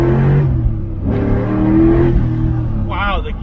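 A 2000 Ford Mustang Cobra R accelerates hard from inside the cabin, its engine droning loud and steady as pitch climbs, dips and climbs again through short gears, with a person talking over it.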